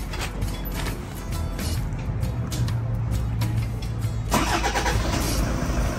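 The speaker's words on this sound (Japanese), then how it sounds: "エンジンかけてください。" A car engine cranks and catches during an air suspension installation, settling into a steady running hum after a few seconds of starter whirring, heard close up with no one talking.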